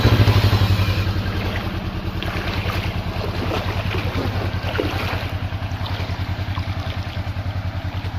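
A Polaris XP 900 off-road side-by-side on portal axles runs with a steady, close, droning engine rumble and pulsing low throb, under constant wind buffeting on the microphone.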